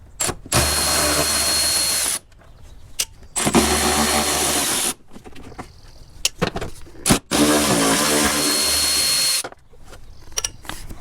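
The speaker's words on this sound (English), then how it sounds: "a long extension with my Milwaukee ratchet and a 12mm socket" A Milwaukee power ratchet with a long extension and 12mm socket runs bolts out of a Land Cruiser FZJ80 engine bay, giving three long whirring bursts separated by pauses and clicks, loud and close.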